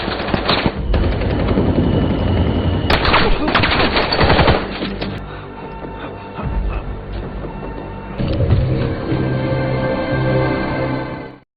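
An action film firefight with long guns gives loud, sustained automatic gunfire in rapid bursts, dense and close, easing briefly midway before surging again and cutting off at the end.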